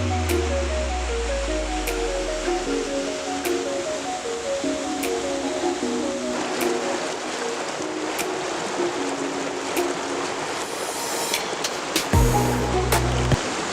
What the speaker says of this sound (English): I could come hang out by this loud ass river